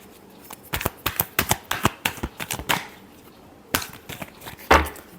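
A deck of tarot cards is shuffled by hand, a quick series of crisp riffling snaps and taps in uneven bursts, close and alone with no talk.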